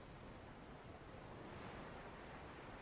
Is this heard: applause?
no